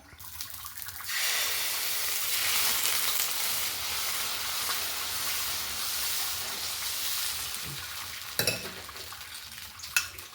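Fenugreek dosa batter sizzling on a hot griddle, a loud continuous hiss and crackle that starts abruptly and holds steady, with a couple of brief knocks near the end.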